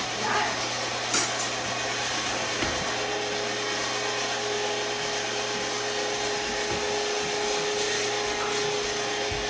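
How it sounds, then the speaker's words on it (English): A meat grinder works through semi-frozen mountain oyster testicles for sausage, a continuous mechanical motor drone with occasional knocks and grinding clicks, steady and close. "So we're going to grind them through now, and then we're going to grind the fat."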